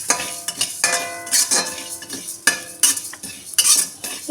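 Coriander and cumin seeds dry-roasting in a pan are stirred with a metal utensil, giving repeated scraping clinks and rattles against the pan at an uneven rhythm, close and fairly loud, with no talk.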